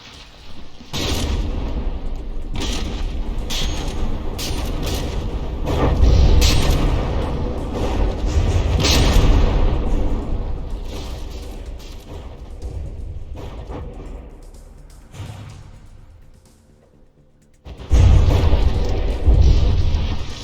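Heavy battleship cannon volleys and shell explosions in the From the Depths naval combat game, a sustained roar of booming blasts that fades to near silence before a fresh loud salvo erupts.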